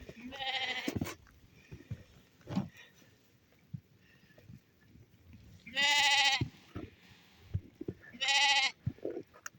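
Several loud, wavering bleats from nearby sheep, spaced a few seconds apart, with soft rustling and shuffling in between.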